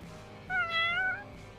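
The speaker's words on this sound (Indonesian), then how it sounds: "Chusha mendengar bunyi kucing." A single domestic cat meows once, a drawn-out mid-pitched cry lasting under a second, close and clear over a low steady background with no talk.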